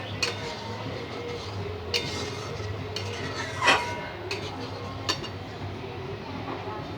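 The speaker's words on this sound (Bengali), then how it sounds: "এইভাবে নাড়তে হবে" Pineapple chutney paste stirred in a pan, with a spoon scraping and clinking against the metal every second or so over a low steady background hum; the scrapes are soft and close.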